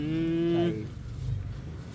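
A cow in a cattle pen lets out a single loud, close moo that breaks off after under a second, followed by low rumbling pen noise.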